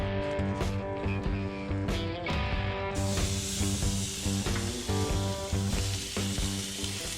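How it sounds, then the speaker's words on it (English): Loud, steady sizzling of prime rib searing on grill grates over 700 degrees on a Masterbuilt Gravity Series grill, a constant hiss that swells partway through, with a tonal hum underneath. "If you're not sizzling like that, you're not searing."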